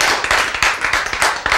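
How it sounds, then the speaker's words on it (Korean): Congregation clapping during a church sermon, a short, loud and dense burst of hand claps close by. "박수 안 쳐요. 박수."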